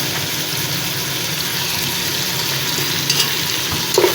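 Crushed garlic and ginger frying in a pan for a turnip and meat curry, giving a steady close sizzle with light stirring scrapes toward the end and no talking.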